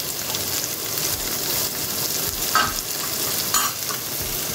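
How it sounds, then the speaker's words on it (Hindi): Chopped onions go into garlic already frying in a pan for street-style Chinese bhel, giving a steady close hiss of sizzling oil with a couple of brief louder bursts as they are stirred, with no talk. "ये हमारे लहसुन थोड़े से हो गए हैं, अब हम इसमें डाल देंगे अपनी कटी हुई प्याज।"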